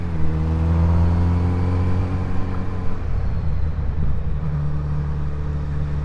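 A Kawasaki Z900RS motorcycle is ridden on the road, its engine making a steady, loud, close drone with strong low harmonics that shift slightly in pitch as the revs change.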